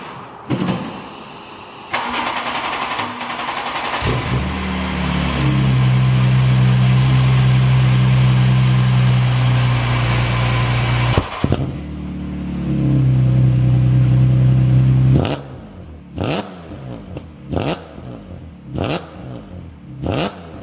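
A supercharged BMW E30 M3 engine cranks, catches and settles into a loud steady idle with a revving surge, then cuts off, followed by several sharp knocks.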